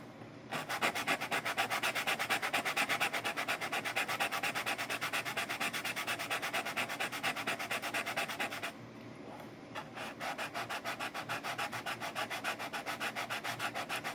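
Feet of a 3/4 violin bridge rubbed back and forth on sandpaper, a fast, even rasping rhythm of close strokes that pauses briefly partway through and then resumes at the same pace.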